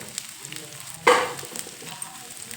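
Green chillies and grated fresh coconut fry in a pan for brinjal curry, a steady low sizzle with one brief louder burst of hissing as ingredients hit or are stirred in the hot oil.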